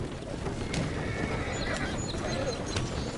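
Horse sounds from the video game Red Dead Redemption 2, with a whinny and clip-clopping hooves over a steady busy ambient bed, moderately loud throughout.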